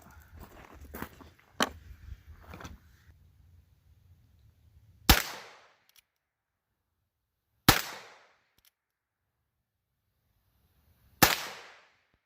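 Three sharp .22LR rifle shots crack out several seconds apart at a chronograph test, each loud and close with a short decay. Quiet shuffling and handling noise come first.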